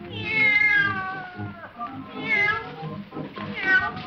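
A cat puppet at a Howdy Doody puppet show meows repeatedly, three long drawn-out, wavering meows in close succession, loud and clear with faint background murmur.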